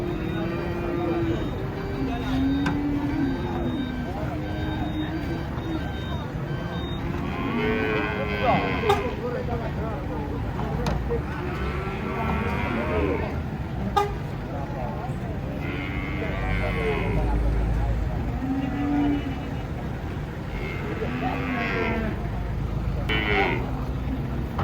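An agitated cow being unloaded from a truck lets out repeated loud, drawn-out moos and bellows over constant crowd chatter and engine rumble.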